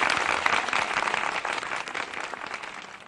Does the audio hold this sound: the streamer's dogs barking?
no